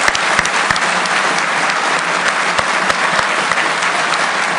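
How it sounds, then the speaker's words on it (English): Sustained applause from an audience honoring a soldier at an infantry officer course graduation, dense clapping steady and loud throughout, with a few sharper claps standing out near the front and no one speaking. "Give that man a round of applause"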